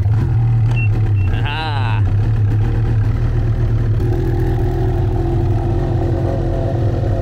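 A snowmobile engine idles out in snowy backcountry, its low, steady rumble continuous throughout, with a brief rising whine early on.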